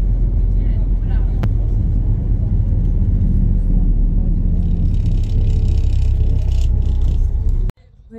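A bus climbs the road up Mount Etna, its engine a loud, steady low rumble with road noise inside the cabin, ending abruptly in a sharp cut to quiet.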